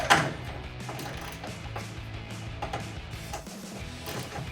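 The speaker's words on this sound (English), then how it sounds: "I'm using a 10mm ratchet" A 10mm ratchet clicks in quick mechanical bursts while removing a fastener in the rear wheel well of a 2021-2023 Ford F-150, close up over a low background hum, with no talking.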